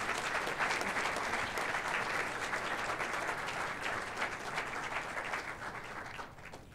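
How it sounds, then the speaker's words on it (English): An audience at a university graduation celebration applauds steadily, a dense wash of many hands clapping at a moderate distance that tapers slightly toward the end. "Can we give the College of Ag a round of applause?"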